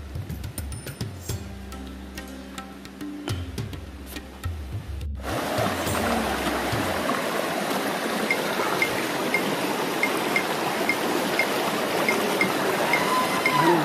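Kulhar Ghat waterfall rushing at close range, a broad steady roar of falling water that starts abruptly after about five seconds of quieter handling noise and clicks, then holds loud and continuous to the end.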